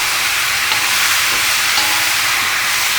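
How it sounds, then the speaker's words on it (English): Tomatoes gently sautéing in a pan, a dense continuous sizzle and hiss, loud and even throughout with no talking. "Our tomatoes are just ever so gently being sauteed."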